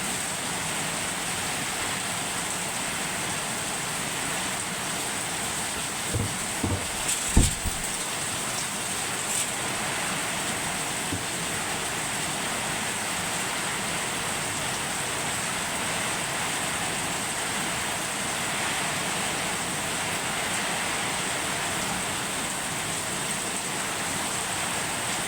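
Heavy rain pours steadily overnight, a dense, unbroken hiss that holds level and loud for the whole stretch, with a few brief knocks or drips standing out near the start.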